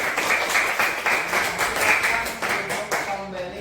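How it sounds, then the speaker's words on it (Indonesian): Classroom of children clapping together in a quick, steady rhythm, several bursts of dense hand claps close and loud, fading at the end. "Tepuk tangan untuk kita semua."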